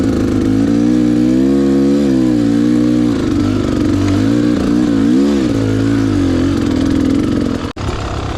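Dirt bike engine crawling slowly at low revs as the rider slips the clutch on a training ride, a loud close steady drone with wavering pitch as the throttle rises and falls, ending in a brief sharp knock.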